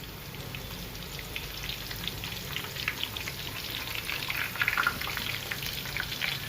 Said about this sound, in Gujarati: તમે આને તેલમાં તળશો તો જ આવી રીતે આ સરસ પાકશે